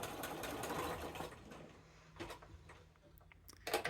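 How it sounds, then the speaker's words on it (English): Sewing machine stitching binding onto a quilt corner, a quiet rapid run of needle pulses that slows and pauses, then a few brief ticking bursts as it back stitches, no voices. "I'm going to stitch to a 1/4 inch, do a back stitch"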